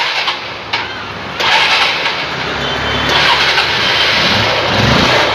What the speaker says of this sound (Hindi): बाइक जो है हमारी इजीली ऑन हो रही है।